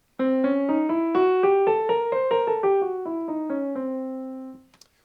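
A single instrument plays a diminished scale of evenly spaced notes rising then falling back to the start, smooth and unaccompanied, ending with a faint click.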